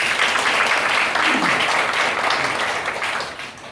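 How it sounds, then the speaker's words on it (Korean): An audience applauds at a church debate forum as a visiting Presbyterian pastor is welcomed. The dense, even clapping is loud at first and then fades gradually toward the end. "여러분 박수 부탁드립니다"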